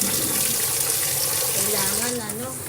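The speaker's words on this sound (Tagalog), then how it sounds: "Habang naglalagay ng tubig sa okoro or sa aming bathtub." Water gushes steadily from a tap into a Japanese ofuro bathtub, loud and continuous with a rushing hiss, its pitch shifting slightly near the end as the tub fills.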